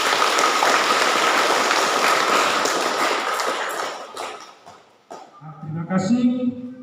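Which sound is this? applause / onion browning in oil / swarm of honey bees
applause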